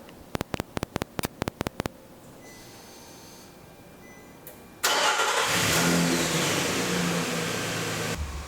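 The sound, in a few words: Nissan Frontier engine starting via Viper remote start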